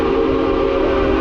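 A steam train whistle gives one brief, steady, sustained tone, loud and close, with nothing else heard around it.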